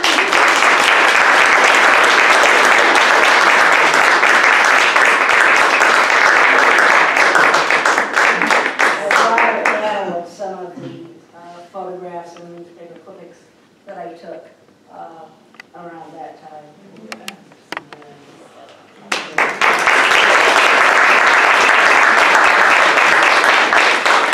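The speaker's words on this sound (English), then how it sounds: "Round of applause." Loud, dense audience applause after a memoir reading fills the first ten seconds, gives way to a stretch of spoken voices, then returns at full strength near the end.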